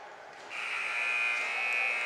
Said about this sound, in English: And buzzer sounds. End of the first period.